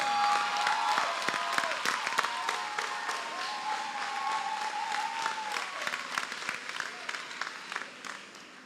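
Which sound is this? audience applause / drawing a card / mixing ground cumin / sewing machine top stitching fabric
audience applause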